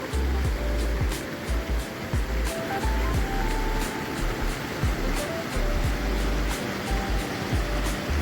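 A waterfall on the Vamanapuram river near Vithura roars as a steady broadband rush, with recurring low rumbles and clicks close to the recorder.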